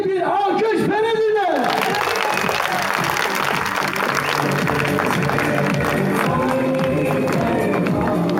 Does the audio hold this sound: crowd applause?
yes